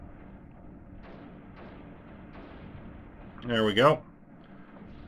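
Weapons fire in the strategy game Creeper World 3: a short burst of loud booming shots, two close blasts near the end over faint background hum, with a brief spoken remark just before.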